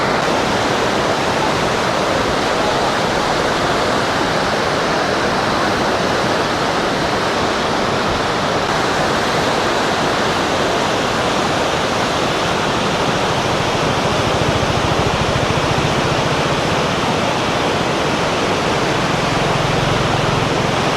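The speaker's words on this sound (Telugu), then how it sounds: "ఇక్కడ వాటర్ ఫ్లో చూస్తూ ఉంటే మనం కూడా కదిలినట్టు ఉంది" Water rushing through a canal gate in Konaseema, Andhra Pradesh, a loud, continuous broadband roar of churning flow that stays steady throughout with no voices.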